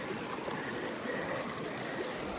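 Creek water rushes steadily at the last stream crossing on the way to East Lake in the Hoover Wilderness, a close, continuous broadband wash with no talking.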